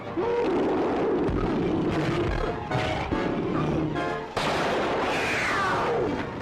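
Gunfire rings out in a 1952 jungle adventure film, with several loud, sharp cracks spread over a dense, noisy soundtrack and a final sweeping, echoing burst.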